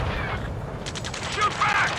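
Gunfire in the combat flight game Ace Combat 7, a dense fusillade of shots crackling over a constant battle din, with game voices shouting under and around the shooting.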